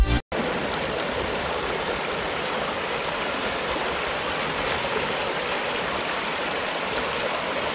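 Water flows steadily at a boat ramp, a constant broadband rush that stays at an even, fairly loud level throughout after a brief break at the very start, with no voices.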